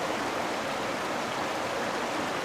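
Water rushes and flows steadily at Plitvice Lakes in winter, a broad, even hiss of streams close by with no pauses and no voices.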